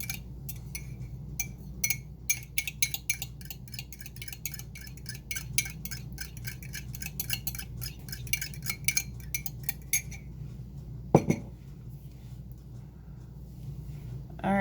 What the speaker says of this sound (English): we're gonna mix all that up, preferably without busting your eardrums out